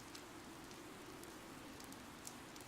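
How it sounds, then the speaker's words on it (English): Steady rain falling across a battlefield in the video game Fire Emblem: Three Houses, a soft, even hiss of drops that never lets up, low in level and with no voices over it. "Oddly, the rain has come to fall yet again."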